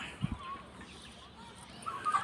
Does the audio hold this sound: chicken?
yes